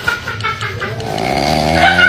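Deep, rattling snores sound close by, first as short snorts, then building into one long, rising, throaty snore.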